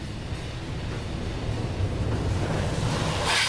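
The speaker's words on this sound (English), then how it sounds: "All right, here comes the water blaster. It's on the windshield." A car wash water blaster sprays over a Jeep fitted with a Bestop Trektop hardtop, heard from inside as a loud, steady rushing hiss that swells and grows harsher toward the end.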